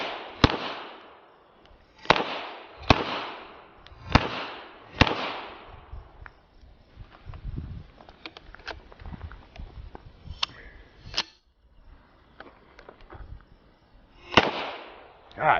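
Gunshots from a stocked firearm, about six sharp, loud reports spaced a second or so apart, a pause with quieter handling clatter and rustle, then one more shot near the end.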